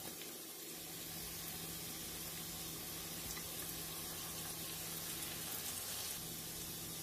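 Onion, ginger and garlic sizzle steadily in hot oil for palak paneer, a constant hiss with faint crackles and a low hum underneath.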